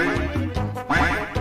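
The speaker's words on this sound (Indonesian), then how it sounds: "Oh, okey itu itik" A duck quacks in a Roblox game, with a rapid, loud series of nasal quacks in a steady rhythm and no talk over them.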